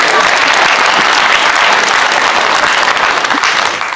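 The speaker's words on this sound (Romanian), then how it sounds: "Hai să aplaudi oamenii vaccinați." Vaccinated audience members at a Romanian stand-up comedy show applaud loudly and continuously, a dense wash of many hands clapping that fades slightly at the end.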